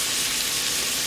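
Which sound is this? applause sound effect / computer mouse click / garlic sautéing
garlic sautéing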